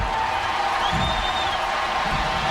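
Stadium crowd at a Cardinals–Cubs baseball game in St. Louis after Mark McGwire's 62nd home run in 1998, a loud continuous roar of clapping and cheering with a broadcast voice over it.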